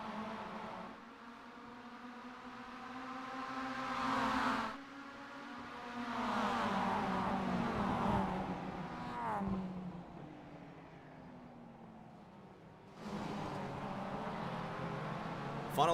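Mazda race cars in the iRacing video game thunder through a race at Daytona, their engines whining and rising in pitch as they accelerate, with several shifts and a steady, loud pack drone for sixteen seconds.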